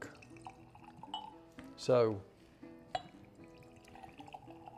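A small splash of water is poured into a glass of cask-strength Balcones rye whiskey from a barrel pick. The single brief liquid pour sounds close and is surrounded by someone talking.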